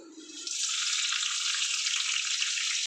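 Yogurt-marinated chicken leg pieces hitting hot ghee in a pan break into a loud, close, steady hiss of sizzling that holds evenly for a few seconds before stopping abruptly.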